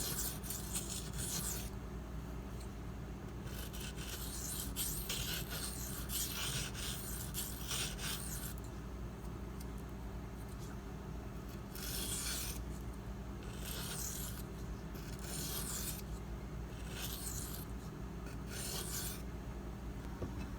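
A Spyderco Dragonfly blade rasps back and forth across a 320 grit sharpening stone to remove the burr, a long series of quiet, steady scraping strokes heard close and alone.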